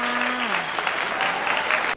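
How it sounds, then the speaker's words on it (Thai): A group of young children clapping for themselves after reciting a Thai fruit rhyme, a brief dense patter of small hands that stops abruptly at the end, with a steady tone fading out early on. "ปรบมือตัวเองด้วยค่ะ"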